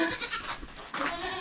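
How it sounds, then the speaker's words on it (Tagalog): A baby goat bleats twice in short, close, fairly loud calls, with a brief pause between them. "Hello, baby goat!"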